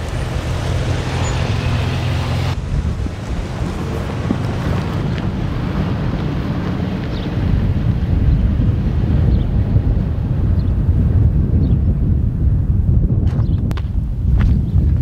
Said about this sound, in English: There's a nice fresh wind.